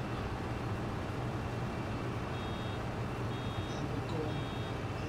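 Faint, evenly spaced vehicle reversing beeps in Farming Simulator 22, sitting over a constant low engine rumble from the machinery.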